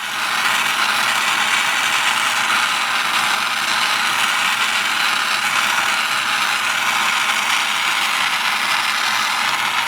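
A torch heating a copper base to fuse silver for jewelry roars as a loud, steady hiss with no break and no voices.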